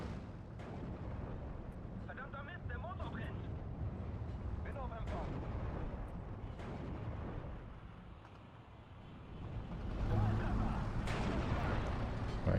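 Bombs land on target in the WWII strategy game Steel Division 2, a rumbling run of deep explosions and artillery-like booms swelling and fading over about twelve seconds, with a heavier blast near the end.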